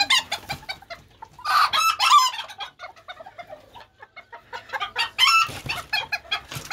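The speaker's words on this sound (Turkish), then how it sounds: "Saldırgan bir gurk." An aggressive broody Serama hen clucking agitatedly at close range, rapid harsh clucks rising into louder squawking bursts, with a few quieter pauses between.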